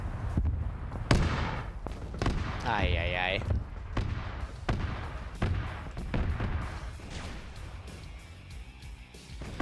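Cannon fire in a Warhammer 40K scenario video game with Steel Legion and Krieg forces against Orks, repeated heavy booms and blasts at irregular intervals, with a voice exclaiming over the battle noise.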